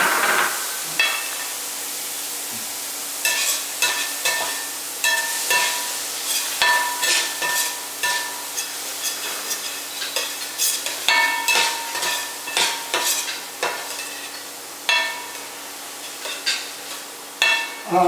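Onions and garlic frying in a pan, stirred with a utensil: steady sizzle with frequent scraping and clinking strokes, close and fairly loud, no talk.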